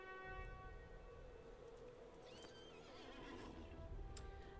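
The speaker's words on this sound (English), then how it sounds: "I can just use my war steed now." A war steed in a video game set in Middle-earth gives a faint, quavering whinny over soft hoof clip-clops and a low ambient game backdrop, with no voices.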